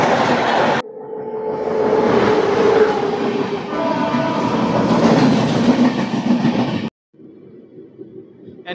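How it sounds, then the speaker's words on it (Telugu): The Uday Express train passes close by with a loud, sustained rush of wheels and rattling carriages, rhythmic clatter over the rails, then an abrupt drop to quieter rumbling. "ఆహా, ఉదయ్ ఎక్స్ప్రెస్."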